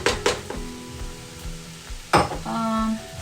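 Vegetables for pancit bihon stir-fried in a hot pan, with steady sizzling broken by a couple of sharp scraping clatters of the utensil against the pan, close and moderately loud.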